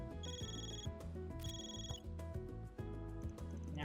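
A telephone rings in the game Trails Through Daybreak, two bright trilling bursts of the ring pattern playing over steady background music, fairly loud and with no voices.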